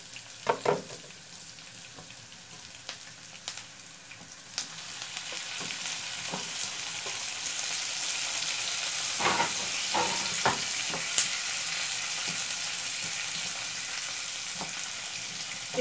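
Chopped tomato hits hot oil in a pan and sets off a bright, steady sizzle that builds and holds, with occasional close clinks and stirring knocks and no talking.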